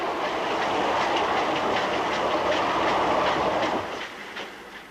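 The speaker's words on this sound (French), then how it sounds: "Eh, ça peut pas être un train express?" Express train arriving at a station, a loud steady rumble with rhythmic wheel clatter that fades toward the end as it slows, with no voices.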